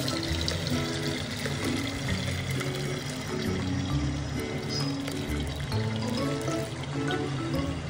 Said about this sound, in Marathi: चाळणीवरती एखादा रुमाल किंवा कॉटनचा कापड ठेवून हे सगळं पनीरचं मिक्सचर ह्यामध्ये ड्रेन करा